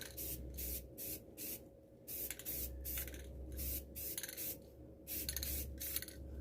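Short bursts of spray paint lay light coats of flat black onto a homemade kayak camera mount, coming as about eight separate hissing passes with brief pauses between them, close and steady, and no one talking.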